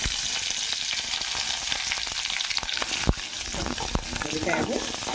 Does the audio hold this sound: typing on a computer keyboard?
no